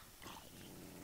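A tamed dog in Minecraft growls faintly, a low steady rumble running through a short, quiet moment with no talk.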